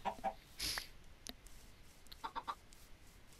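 Chickens in a Minecraft pen cluck in a few short bursts, with a sharper squawk near the middle and a quick run of clucks toward the end, faint and spaced out over quiet background.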